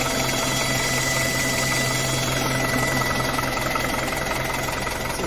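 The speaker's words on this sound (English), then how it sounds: "This is not a happy sounding fan, is it?" A Citroen BX engine idles steadily with a rough, noisy cooling fan whirring over a constant mechanical drone, close and loud throughout.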